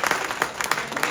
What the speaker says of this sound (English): And another big round of applause again for Oakland.